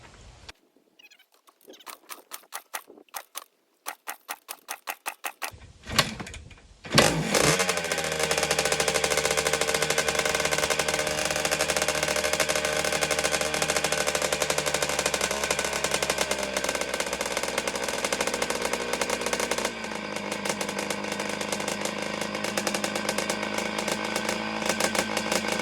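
A 1979 Kawasaki KX125 two-stroke dirt bike being brought back to life: several sharp kick attempts, then the engine catches and runs loud and close, buzzing steadily with rising and falling revs and no talk over it.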